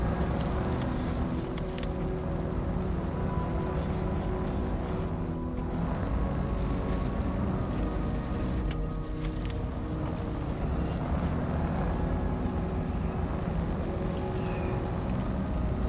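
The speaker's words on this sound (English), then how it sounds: "I'm kind of curious because I've never driven through this puddle, how bad it is" A truck in SnowRunner pushes through a deep puddle, with a steady, dense rushing and sloshing of water over engine rumble, continuous and fairly loud throughout.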